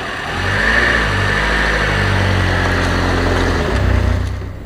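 A car engine rises in pitch as it accelerates on the road, a steady close mid-range drone with no talk over it.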